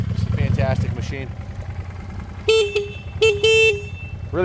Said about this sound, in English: Really loud horn.